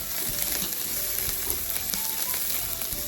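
Onion frying in a pan for a fish pasta sauce makes a steady, dense sizzle with faint stirring scrapes, close and constant throughout.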